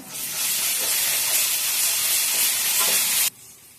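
Green chillies, curry leaves, turmeric and ginger paste sizzle loudly in hot oil, a dense, close, steady frying hiss with some stirring that stops abruptly near the end.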